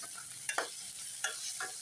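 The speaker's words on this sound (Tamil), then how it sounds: "தக்காளியை சேர்த்து கொஞ்சம் நல்லா வதக்கிக்கலாம்." Tomatoes and onions being sautéed in a pan for a prawn gravy, a few distinct spatula scrapes over a quiet, steady sizzle, close by with no talking.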